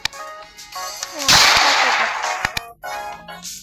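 A loud game explosion bursts out with a rushing roar that slowly fades, surrounded by sharp clicks and electronic effects.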